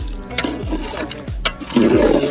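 Water poured into a pot of mutton curry as it cooks, a close splashing, gurgling pour that swells into a fuller rush near the end.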